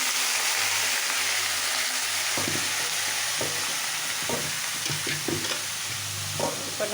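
Boiled cabbage added to a pan and stir-fried for a wedding-style cabbage poriyal, a steady broadband sizzle with repeated scraping and stirring strokes of a spatula against the pan, close and continuous without speech.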